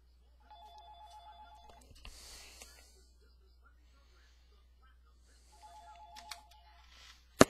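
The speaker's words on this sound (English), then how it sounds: "did you hear the phone ringing?" A telephone rings twice, in two bursts of electronic trilling separated by a pause. Some hissing noise and a sharp clatter come between and after the rings.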